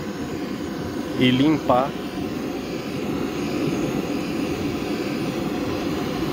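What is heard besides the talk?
engine running to burn off internal oil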